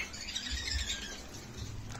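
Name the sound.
pair of budgies chirping in a cage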